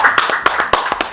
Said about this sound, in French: Applaudissez plus fort.